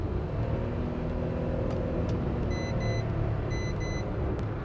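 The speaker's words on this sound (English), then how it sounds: "it was enough to create that rubber band effect, send the revs soaring really high up and wait for the engine to catch up" A Datsun Go with a CVT automatic, its engine revs rising and holding high under part-throttle acceleration to pass a truck, a steady continuous drone heard from inside the car with faint beeps partway through.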